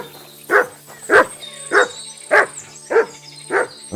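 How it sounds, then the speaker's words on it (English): A dog barks in Kingdom Come Deliverance 2, six evenly spaced, loud barks about half a second apart over a steady game ambience. "That dog just does what he wants, and not what I want him to do."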